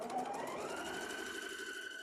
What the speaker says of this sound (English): we're just going to sew straight down